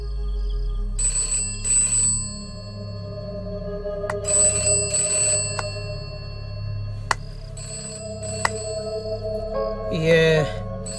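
A telephone bell rings in repeated bursts, clear and fairly near, with quiet pauses between rings and brief voices near the end, in a Hindi film scene.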